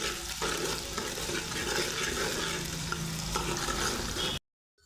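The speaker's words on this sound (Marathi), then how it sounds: "कांदा छान परतून घ्यायचा आहे तेलामध्ये" Onion and curry leaves frying in oil for a soya chunks curry, a dense, even sizzle with faint stirring underneath, fairly quiet, cutting off abruptly near the end; no speech.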